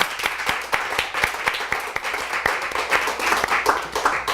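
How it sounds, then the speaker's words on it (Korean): Church congregation applauding during a Sunday sermon service, a steady patter of many hands clapping at moderate level, with faint talk mixed in. "우리 박수 한번 우리 하겠습니다"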